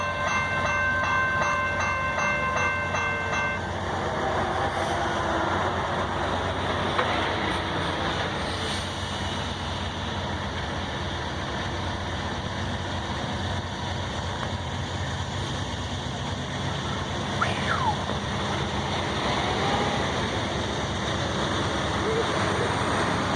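A train rumbles steadily past on the S Line at Orange Heights, Florida, with a continuous loud roar of rolling wheels and engine. A horn sounds in the first few seconds.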